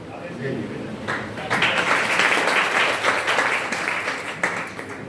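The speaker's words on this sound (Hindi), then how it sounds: "आपने जोरदार तालियां बजाई" Audience applause at a career guidance and awards ceremony for talented students, a dense burst of clapping that swells after a quieter start and holds strongly before easing, with a voice briefly over it.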